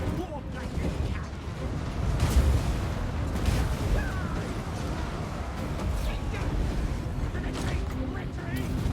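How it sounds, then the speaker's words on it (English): Warp lightning cannon of Warhammer's Clan Skryre firing in a video game battle, heavy blasts and crackling discharges buried in a thick, steady wash of battle noise with voices underneath. "Warp lightning cannon."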